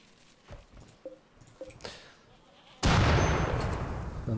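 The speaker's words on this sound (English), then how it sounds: "Contained explosion, no? Everything took damage." A sudden loud explosion in a colony-building video game, a broad roaring blast that follows a few soft thuds and then sustains as a heavy rumble to the end.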